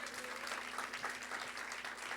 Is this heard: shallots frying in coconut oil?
no